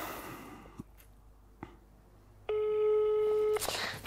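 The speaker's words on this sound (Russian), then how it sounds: "Все, и Арарат не берет трубку" Phone call ringing unanswered: a steady electronic ring tone pulses once, loud and close, after a few short clicks and quiet gaps, with faint voices around it.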